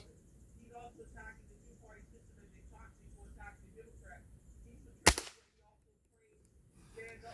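A Gamo .177 Swarm Magnum air rifle firing a cheap Crosman pellet: one sharp, loud crack standing out after several seconds of quiet talk, followed by near silence.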